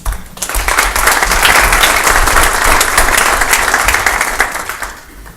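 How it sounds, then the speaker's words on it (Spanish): A crowd bursts into loud, sustained applause that swells and holds for several seconds before tapering off. "Recibámoslo también con un aplauso."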